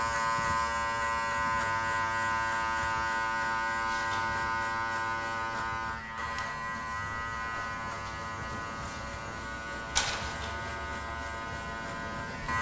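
A cordless Master hair clipper, blade fully open, buzzes steadily and close up while cutting the first step of a fade in a barbershop, with only slight changes in pitch and a brief click partway through.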